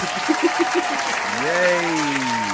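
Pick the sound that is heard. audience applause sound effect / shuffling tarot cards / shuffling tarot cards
audience applause sound effect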